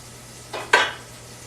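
Butter drops into a hot frying pan for a grilled cheese sandwich, giving a brief soft hiss followed by a sharper, louder sizzle burst that quickly fades in a quiet kitchen.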